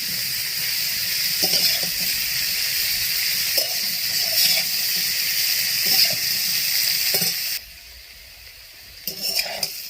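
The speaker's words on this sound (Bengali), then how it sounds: "এবার আমি নেড়ে নেড়ে ভাজা করব।" Potatoes and cauliflower hiss as they stir-fry, with a scrape of stirring roughly every two seconds; the sizzle drops away briefly near the end.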